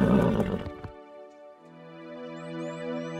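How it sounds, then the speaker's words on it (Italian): A winged horse in an animated children's cartoon neighs loudly in one long whinny that falls away, followed by a sustained tonal musical hum as the neigh fades. "Un cavallo alato!"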